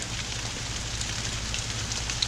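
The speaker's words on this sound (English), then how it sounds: "Lily, you don't know what to think of that rain, do you?" Rain falls steadily outdoors after thunder, a constant close hiss of drops on surfaces with a low rumbling hum beneath, no voices.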